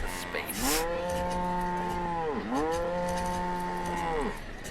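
Cows moo in the city-building video game Banished, two long, loud, drawn-out lowing calls close by and alone, each swelling and dipping in pitch over a steady background hum.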